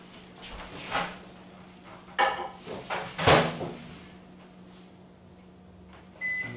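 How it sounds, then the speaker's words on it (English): Handling clunks and a door-like thump mix with a low steady hum as a microwave oven is loaded with butter and starts, with a short beep-like tone near the end. "throw this in the microwave for like a minute so it can, so it can be nice and melted"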